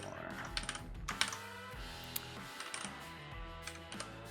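Rapid, uneven clatter of keys being mashed on a computer keyboard, close and clicky, with scattered sharper hits amid the typing and some quiet background sound.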